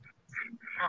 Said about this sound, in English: Ducks. Those are ducks. I know that call.